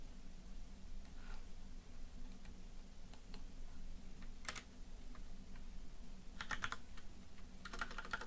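Typing on a computer keyboard while entering a long debugger command, scattered quiet key clicks in irregular bursts over a low steady hum, with faster clusters near the end.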